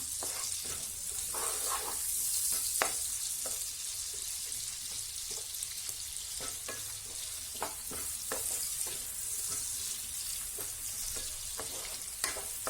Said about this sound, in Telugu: ఓన్లీ 1 ఆనియన్ వేసుకున్నాను. ఇది కొంచెం ఫ్రై అవనిద్దాం.